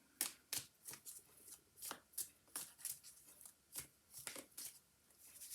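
Tarot cards being shuffled and pulled from the deck, a series of crisp riffling snaps and slaps in an uneven rhythm, close and fairly quiet, with no talking.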